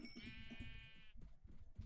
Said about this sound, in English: Now you can bring in some sheep